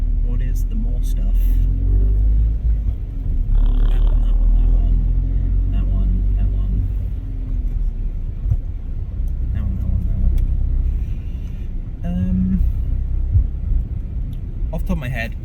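Car engine rumbling steadily while driving through traffic, with a constant low drone and occasional revs, heard from inside the vehicle under continuous talking.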